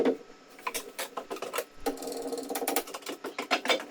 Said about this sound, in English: Bolting it up for the final kind of fit.